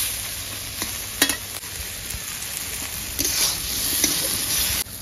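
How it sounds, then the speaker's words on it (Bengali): Turmeric and red chili powder sautéing in a hot pan, a constant close sizzle with a few sharp scrapes of a spoon against the metal. "পরিমাণ মতন হলুদ, লাল লঙ্কার গুঁড়ো, ভালো করে কষিয়ে নেব।"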